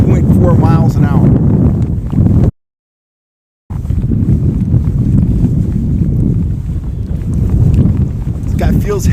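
Steady wind buffeting a microphone on a trolling boat while trout fishing, a low continuous roar with a brief dropout, and a voice talking over it early on.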